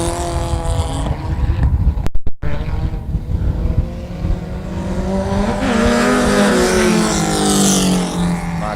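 Race cars roar around an oval track, the engine drone loud and steady with a brief cut-out near the start, then rising again as the cars pass close.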